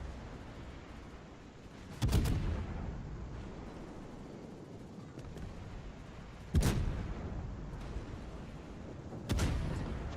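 Heavy naval gun salvos boom in World of Warships during a Des Moines cruiser battle, three sharp blasts spaced a few seconds apart over a steady low rumble of sea and engine noise, with no talking.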